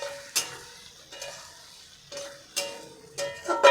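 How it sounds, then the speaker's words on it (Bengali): Chopped bread pieces stirred in a frying pan on low flame, a quiet sizzle with several distinct scraping stirs at uneven intervals, close and fairly loud. "এবারে কুচি করে রাখা রুটির টুকরোগুলো এর মধ্যে দিয়ে দিচ্ছি, দিয়ে নেড়ে চেড়ে ভালো করে মিশিয়ে নেব এর সঙ্গে।"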